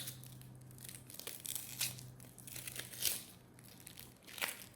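Dry onion skin being peeled by hand in a kitchen, quiet close-up crinkling and tearing in several short bursts, with no speech.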